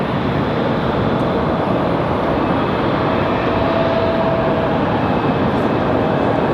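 A Southwest airliner taxiing out at Raleigh-Durham airport produces a loud, constant jet engine roar, broad and unbroken, heard from nearby without any talk.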